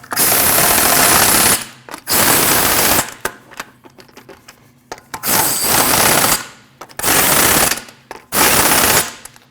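An impact wrench snugs the lug bolts on a 2014–2023 Jeep Cherokee wheel in several loud, rapid rattling bursts of one to two seconds each, separated by short pauses and a few faint clicks.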